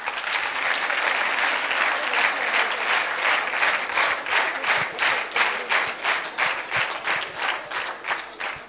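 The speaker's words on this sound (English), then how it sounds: "We would like to welcome all our panel members with a huge round of applause" Audience applause welcoming panel members at a digital leadership panel discussion in Pune, a dense sustained round of clapping that breaks into rhythmic, pulsing claps toward the end.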